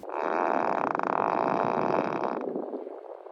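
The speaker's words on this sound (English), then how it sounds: "now you can greet your pedestrians with a fart noise of your choice" Tesla emissions testing mode fart noise, one long, loud, buzzing, rippling blast lasting over two seconds before cutting off, heard alone.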